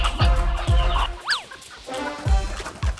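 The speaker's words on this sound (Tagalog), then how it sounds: "maghahanap tayo ngayon ng isang klaseng manok na parang sinasabi nila ito yung native chicken na kilala dito sa Iloilo" A native darag chicken in Iloilo clucks and calls close by, giving a few short clucks and one rising squawk, set against low thumps and outdoor background noise.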